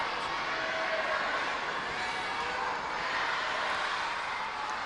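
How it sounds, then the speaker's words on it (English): A large stadium crowd at a university athletics meet roars and cheers continuously, a dense, sustained wash of distant voices. "You can hear the crowd"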